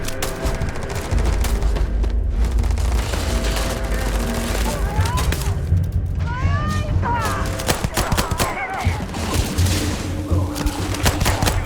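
Rapid machine-gun fire and repeated gunshots in the Indiana Jones and the Great Circle video game, a loud, sustained fusillade with brief shouted voices mixed in.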